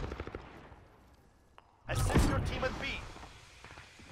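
A FAL rifle in Call of Duty Modern Warfare hardcore multiplayer fires close and loud after a quieter stretch, with one heavy report whose rumble lingers and a faint earlier pop.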